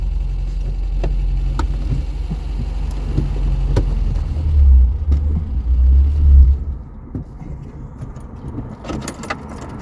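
A classic Ford Fiesta's engine idles and rumbles low as the car is turned around, with small clicks and jangles on top, swelling briefly midway before settling back.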